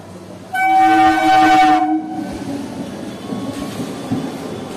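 Asansol–Bardhaman MEMU passenger train sounding a loud, sustained horn for about a second and a half, then a steady rumble of the running train continuing alone.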